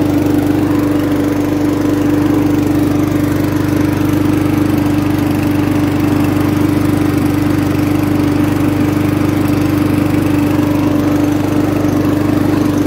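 A FUXTEC FX RM5170 self-propelled petrol lawn mower runs close and loud, a steady even engine drone with a strong constant hum throughout and no talk.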